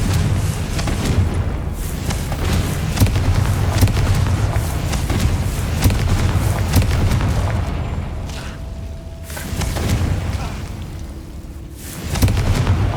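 Confringo spells fire in Hogwarts Legacy, giving a run of deep rumbling blasts and booming impacts over a dense, loud game soundscape, with a few brief quieter gaps between bursts.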